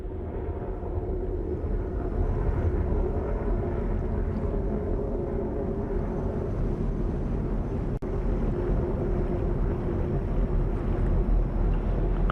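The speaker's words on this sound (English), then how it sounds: "Booster engine continues to operate well." An Atlas V rocket booster engine during launch ascent produces a continuous, distant, low roar that stays steady throughout and carries a windy rumble, with no speech over it.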